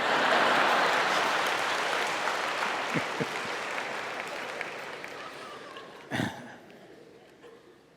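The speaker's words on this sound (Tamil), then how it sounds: "நான் என்ன நினைக்கிறேன்னா என்னுடைய தமிழ் கேட்டு இப்படி கைத்தட்டுறீங்கன்னு நான் நினச்சிக்கிறேன்" An audience applauding at a talk, loud at first and then gradually thinning and fading away, with a few isolated claps and a brief knock near the end.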